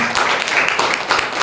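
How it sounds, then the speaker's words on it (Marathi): A church congregation claps during worship, a brief burst of loud, dense handclapping mixed with voices. "देवाला टाळ्या वाजवून"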